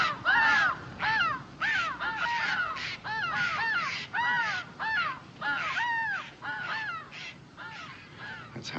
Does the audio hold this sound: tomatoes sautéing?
no